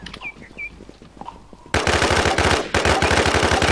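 Gunfire in the video game Infestation: after a few quiet in-game chirps, loud rapid automatic bursts of fire break out, pause briefly, then resume in a sustained rattling stream.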